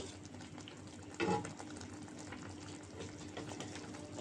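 A pot of tomato and eggplant curry with hilsa fish head and tail bubbles at a boil, a soft steady simmer with one brief clatter of stirring near the start.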